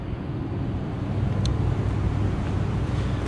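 A 1989 Honda Civic EF two-door hatchback with a fuel-injected 1.6 DOHC engine runs steadily nearby, a smooth low hum with a faint breathy wind-like texture and no voices.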